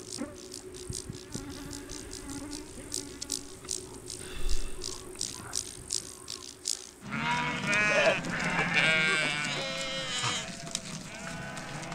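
Mongolian herders' sheep bleat repeatedly at varying distances in the taiga, their calls overlapping with a steady insect buzz, growing louder and denser midway through.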